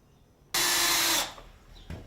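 A power drill drives stainless steel screws into cedar battens on the back of a cedar wood hot tub, with one loud, close, steady whirring burst of under a second, then quiet.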